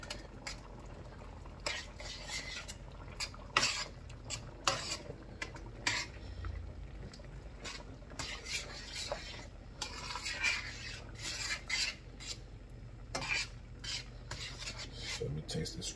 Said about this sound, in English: Stir this around, let it get up in there.